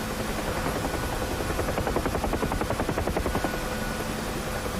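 Helicopter rotor chopping steadily in DCS World flight simulator, a continuous loud beating drone with rhythmic blade slap throughout, no talk.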